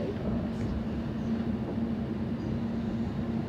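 A car-carrier freight train rumbles past a passenger train in London, a steady, even low roar with a faint hum throughout and no clear gaps.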